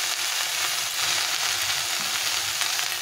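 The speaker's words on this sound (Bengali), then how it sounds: "আর কয়েকটা চেরা কাঁচা লঙ্কা দিয়ে এটাকে ভালো করে ভেজে নেব।" Dried vegetables fry with salt, turmeric and slit green chillies, making a constant dense sizzle that stays even and close throughout, with no voices.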